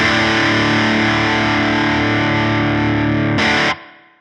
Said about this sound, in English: Typically nice and dense, thick, saturated overdrive.